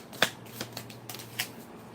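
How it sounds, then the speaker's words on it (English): A deck of reading cards being shuffled, a few quiet riffling snaps and flutters spaced across the moment with a faint steady hum beneath and no talking. "So these are going to be hard to shuffle."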